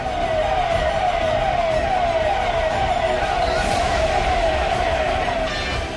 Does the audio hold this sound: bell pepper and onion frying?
no